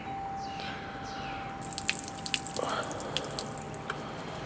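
Water beading up and dripping off waterproofed fabric, heard as a scattering of small close drips and patters over a steady background hiss.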